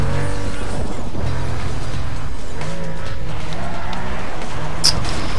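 A slow car in Need for Speed Most Wanted revs its engine loudly and steadily, with shifting pitch and tire squeal, and a brief sharp click near the end.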